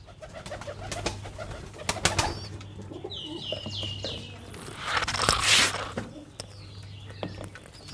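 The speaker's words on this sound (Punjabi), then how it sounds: "ਇਧਰ ਵੀ ਕਬੂਤਰ ਬਹੁਤ ਅੱਛੇ ਆ" Pigeons in a coop give low, steady cooing with occasional wing flaps and bird calls, close and moderately loud throughout.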